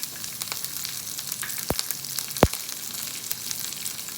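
Urad dal, chana dal and chopped green chilies sizzling in hot oil after mustard seeds splutter, a steady close frying hiss with a couple of sharp pops and crackles, no talking.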